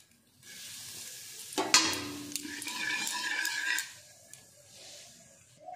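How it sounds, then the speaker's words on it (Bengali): A pinch of asafoetida meets hot oil, giving a sudden sharp sizzle burst with a pan clatter, then a crackling fry that fades and flares again, close and moderately loud, with no speech. "একটু হিং আমি এবার তেলে দেব।"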